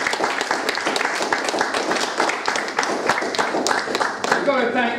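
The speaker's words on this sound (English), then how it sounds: "to really thank her by giving her a round of applause." A workshop audience gives a round of applause at a closing session, with distinct individual claps standing out in a loose rhythm across the crowd and a voice coming in near the end.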